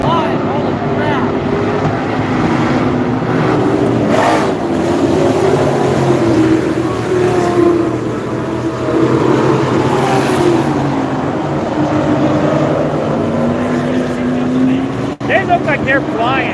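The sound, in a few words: super trucks racing at Vado Speedway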